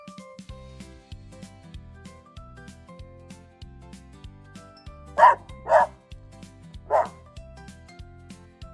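Three sharp dog barks ring out over a quiet repeating pulsing background, the barks fairly close and spaced about a second apart.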